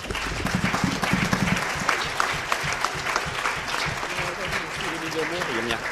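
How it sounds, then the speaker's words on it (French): A seated audience at a health and biodiversity conference applauds with a dense wash of clapping, while voices talk over it throughout and a louder voice joins near the end. "je crois qu'on peut les applaudir"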